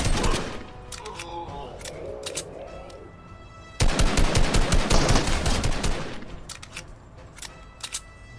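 Gunfire from a gun in Fortnite: rapid automatic bursts, loud and close, with a short lull and then a denser, sustained volley that tapers into a few scattered shots.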